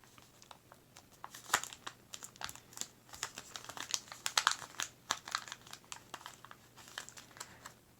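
Paper for an origami Mufasa is folded and squished down, producing soft, close crinkles and sharp little crackles scattered irregularly over the quiet background.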